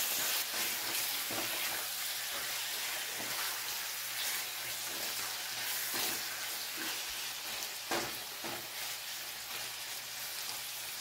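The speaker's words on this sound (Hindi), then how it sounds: "इसमें थोड़े से लहसुन है जो मैंने चॉप किए हैं, इसमें ही चिकन मिला देंगे। इसे थोड़ा फ्राई करेंगे हम।" Chicken and chopped garlic fry in a little oil for chicken shashlik, a soft, steady hiss with faint crackles and an occasional stir, fairly quiet and unbroken.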